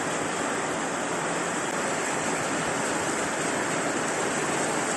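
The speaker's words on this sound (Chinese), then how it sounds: "暴风骤雨啊！" Heavy rainstorm with strong wind at a street market in Guangzhou, a loud, steady broadband roar of pouring rain and gusts that fills the whole stretch without pause or voices.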